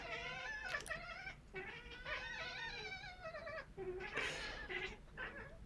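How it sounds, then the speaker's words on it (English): Cats chitter and yowl up close in a string of wavering, whiny calls with short gaps between them, no talking. "Do you hear the kitties chittering?"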